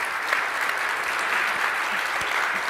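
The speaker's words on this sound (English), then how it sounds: "Give him applause." Steady applause from a conference audience at a closing keynote session, a dense wash of many hands clapping at even loudness for a few seconds with no voices on top.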